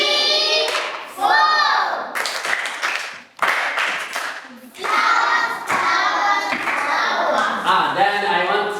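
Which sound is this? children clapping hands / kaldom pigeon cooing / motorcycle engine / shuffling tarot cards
children clapping hands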